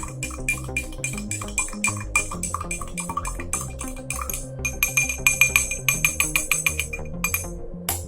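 A spoon stirs an oil and soapy-water mixture in a glass, giving a rapid, steady run of close, light clinks against the glass for several seconds.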